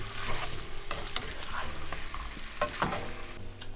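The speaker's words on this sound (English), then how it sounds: "We're going to saute this for just about 30 seconds so the basil gets nice and bright green" Taiwanese three cup chicken wings with scallion greens and Thai basil sautéing over a flame, with a busy crackling sizzle and frequent clattering spatula strokes against the pan, close up and without voices.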